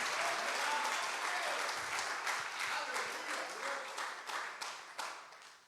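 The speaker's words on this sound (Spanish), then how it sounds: "Dale un aplauso a Dios fuerte." A church congregation breaks into loud, sustained applause during a sermon, dense clapping that fades gradually, with a voice heard faintly beneath it.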